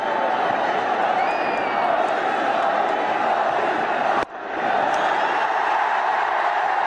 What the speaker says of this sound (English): Big cheer here. It deserves every bit of it.